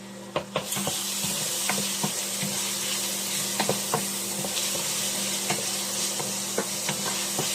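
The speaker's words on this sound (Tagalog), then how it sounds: "Ang translucent na yan, add natin yung ating bawang." Garlic sautés in a hot frying pan while a Pork Binagoongan with eggplant is being cooked, a steady sizzle broken by frequent sharp scrapes and clicks of stirring, close and alone.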